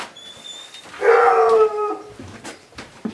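Sled dogs at a mushing kennel north of Duluth howling at feeding time, a rising chorus of long wavering howls that swells loudly for about a second, then fades into scattered yelps and whimpers nearby.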